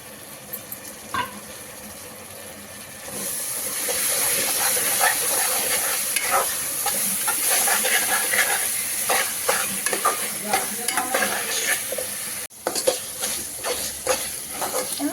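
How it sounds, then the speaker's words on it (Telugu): Tender tamarind leaves fry with turmeric in a pan for mutton curry: a steady, loud, close sizzle starts after a short quiet lead-in, and scraping stirs run through it, with no one talking. "చింత చిగురు ఇది వేసేసి ఒక 2 minutes బాగా ఫ్రై చేసేసుకుందాం"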